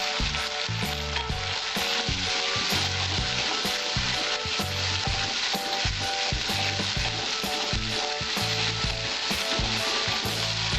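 Green chilies, garam masala, cashew paste and poppy seed paste sizzle loudly in hot oil for katla fish kalia, with a steady, close frying hiss and occasional stirring scrapes throughout.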